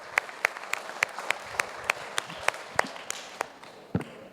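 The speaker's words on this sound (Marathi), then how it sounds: "छान, टाळ्या वाजवा." Audience at a Marathi motivational talk gives sparse applause, about a dozen separate sharp claps spaced out in a fairly even rhythm over a quiet hall, with one last clap after a short gap.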